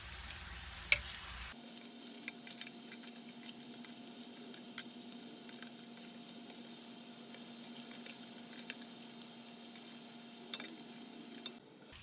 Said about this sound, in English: These yellow corn tortillas might puff up like this, but go ahead and let them cook in that hot oil.